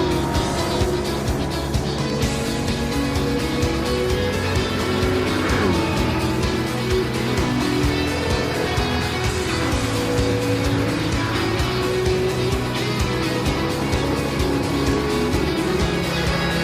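Race cars at Monza in a racing game, engines droning steadily and loudly throughout with passing whines and faint tire squeal, nearly continuous engine roar.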